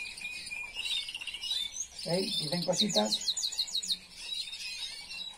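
Caged Valenciana canaries in Puertollano chirping and trilling, quick repeated high tweets and rapid warbling phrases close by, with a person speaking briefly over them.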